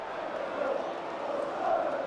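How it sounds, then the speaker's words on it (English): A Leeds United home crowd in a stadium lets out a sustained, muffled groan of frustration, a broad wash of voices that swells slightly toward the end. "Frustration again from the home crowd as Roberts collects it"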